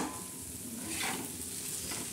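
Okra with green chillies and onion frying on a hot tawa, giving a dense, steady sizzle throughout with slight swells, close and unbroken.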